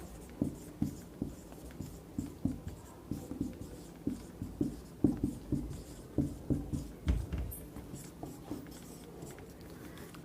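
Chalk or pen writing steadily on a board during a Class 10 coordinate geometry math lesson, a rhythmic series of short scratchy strokes repeating throughout, close and fairly quiet, with no talking.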